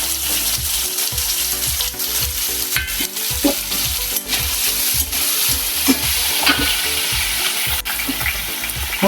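Cubed potatoes for sabudana khichdi fry in oil in a pan over low gas, a steady close sizzle broken by repeated stirring scrapes and spoon knocks in an uneven rhythm, with no voices.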